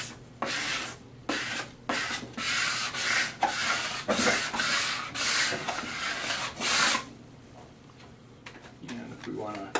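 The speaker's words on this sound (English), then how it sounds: "Just take our squeegee again," A squeegee rubs across a vinyl decal during wet application, making a rhythmic series of close, loud scraping strokes with brief pauses between them.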